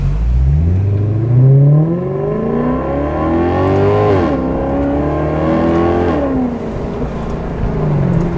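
Maserati GranTurismo accelerating, its engine note climbing steadily through the gears with rising harmonic sweeps and brief dips at each shift, loud and continuous from inside the car.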